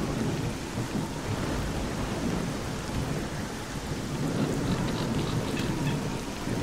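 Thunderstorm in the video game S.T.A.L.K.E.R.: Clear Sky, with steady heavy rain and low rumbling thunder rolling continuously, loud and close, no voices.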